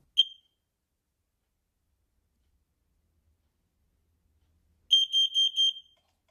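A shrill electronic alarm from an assistive alerting device gives one short beep, then after a long silence sounds a rapid series of piercing beeps, loud and close.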